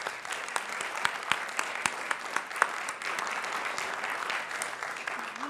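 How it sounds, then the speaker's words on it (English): At a media innovation event, a modest audience claps for Kathy, a fairly quiet, steady patter of hands with a few distinct louder claps popping out, heard without speech. "A round of applause for Kathy as well"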